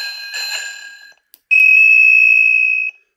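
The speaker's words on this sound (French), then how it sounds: "j'ai rajouté une petite sonnette plus digne de son nom." An electronic bicycle bell added to a Decathlon Riverside 500E electric bike rings loud and close: a shorter bright chime fades out, then after a brief pause a sustained high electronic tone holds for about a second and a half.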